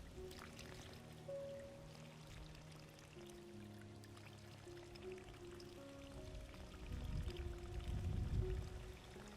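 An automatic irrigation system waters crops, a soft continuous pour and trickle of water under a low hum, swelling louder toward the end.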